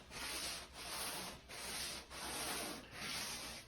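Hand sanding across a wooden kayak hull during fairing, five even back-and-forth strokes of a soft, raspy scrape in steady rhythm, close but quiet, with no talking.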